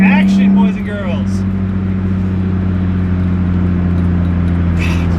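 A BMW E36 M3 Laguna Seca drives with a loud, steady engine drone heard from inside the car, with a voice speaking briefly at the start.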